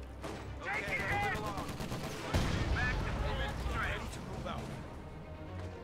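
Machine gun fire and other gunshots crackle through a Company of Heroes II battle, rapid bursts and booms at moderate distance under game voices and ongoing talk.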